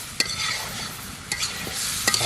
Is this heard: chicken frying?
yes